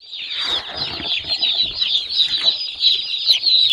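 Broiler chicks at a poultry farm, a dense, continuous chorus of high-pitched peeping from many birds close by, steady throughout with no talking.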